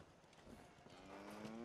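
A cow in the video game Fallout 4 gives a short, faint moo lasting under two seconds, set against a quiet background with no talking.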